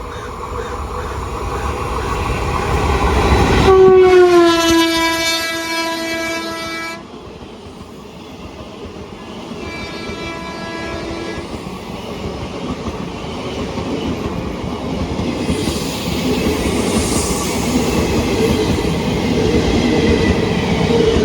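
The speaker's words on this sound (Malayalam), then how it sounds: "അങ്ങനെ തൃശ്ശൂർ കണ്ണൂർ എക്സ്പ്രസ് ഇപ്പോൾ ഇവിടെ സ്കിപ്പ് അടിച്ചിട്ട് പോയി" A Thrissur–Kannur Express hauled by a WP1 locomotive runs through a small station without stopping, sounding a loud sustained horn blast and then shorter horn calls over a steady rumble and clatter of passing coaches.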